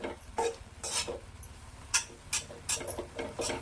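A spoon stirs basmati rice flour in a pan for modak dough, with repeated soft scraping and clinking strokes at a steady rhythm, close and moderately quiet, with no talking.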